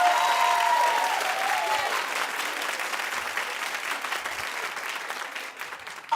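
A studio audience bursts into loud clapping that holds steady for several seconds, then gradually thins and fades toward the end.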